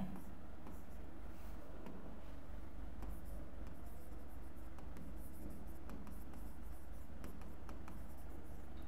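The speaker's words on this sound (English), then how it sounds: "Verification, let me write it." A teacher writing on a classroom board during a maths lesson: soft, faint scratching strokes over steady low background hum, with no clear talk.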